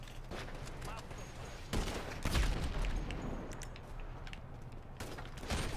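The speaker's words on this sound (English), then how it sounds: "this looks like we're all trying to gun each other down" Gunfire in a multiplayer shooter video game: scattered bursts of shots, louder volleys near the two-second mark and at the end, over a constant bed of game noise, with some talking.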